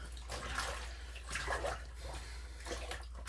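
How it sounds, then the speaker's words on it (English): Hot tap water pours steadily into a bathtub with a bucket set in it, a continuous rushing splash that swells and eases in a few waves, close and fairly loud with no talking. "I did hot water in the tub"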